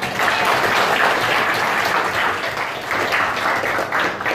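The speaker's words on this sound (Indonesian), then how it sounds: "Kita kasih aplaus dulu." Indonesian high school math class students applauding together, a steady dense burst of clapping held for several seconds with little voice above it.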